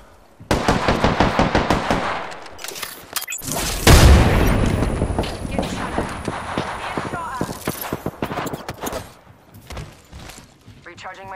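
Video game gunfire in Apex Legends, rapid bursts of shots and a heavy boom, loud and close, mixed with game voice lines and other effects.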